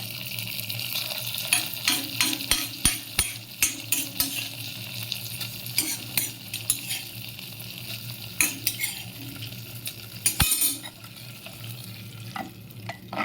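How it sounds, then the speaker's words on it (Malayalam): Hot coconut-oil tempering of mustard seeds, dried chilli, cumin, curry leaves and fenugreek poured into thick buttermilk curry, giving a steady close sizzle with clattering stirs and several sharp crackling spikes, no voices. "വെളിച്ചെണ്ണയിൽ കടുക്, ഉണക്കമുളക്, ജീരകം, കറിവേപ്പില, ഉലുവ ഇതെല്ലാം കൂടി താളിച്ചതാണ്. ഇതിനി കറിയിലേക്ക് ഒഴിച്ച് വെക്കാം."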